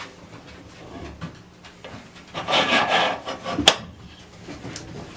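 A Bessey I-beam clamp is tightened onto a 4x4 wood post, giving scraping, rubbing wood-and-metal friction that swells in the middle and ends with a sharp creak, close and alone.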